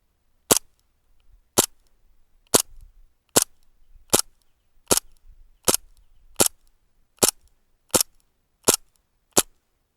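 Browning airsoft pistol fired outdoors toward a dark distance, eleven sharp, loud cracks spaced roughly evenly with short gaps of quiet between shots.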